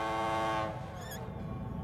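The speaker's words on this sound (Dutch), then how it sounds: "Theodoor blaast en probeert zijn scheepshoorn serieus te laten klinken." A cartoon tugboat sounds its ship's horn in one loud, steady, reedy blast that cuts off partway through. A brief rising whistle-like tone follows over a low background rumble.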